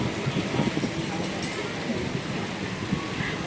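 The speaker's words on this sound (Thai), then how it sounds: "ทุกคนตอนนี้ฝนตกพี่น้อง" Rain falls steadily over an outdoor Thai market, a broad continuous hiss with scattered patter, while voices talk throughout beneath it.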